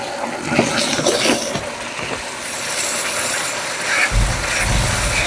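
Water poured into a hot cast iron pan of sugar over a flame sets off a continuous broad hiss and sizzle, steady and fairly loud, with a deeper bubbling surge near the end.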